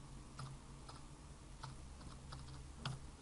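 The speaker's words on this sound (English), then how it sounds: "we're going to type in our ID." Keystrokes on a point-of-sale computer keyboard as an ID is entered, with a few soft, sparse clicks under a faint steady background hiss.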